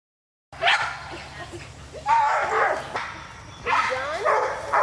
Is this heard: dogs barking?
yes